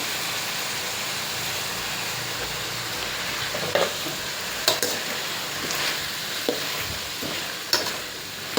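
Food frying in a pan as salt is stirred in, a steady close sizzle with occasional scraping taps of the utensil against the pan.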